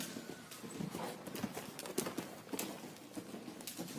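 A horse canters during a riding lesson, its hoofbeats faint and rhythmic in a steady three-beat patter that continues throughout.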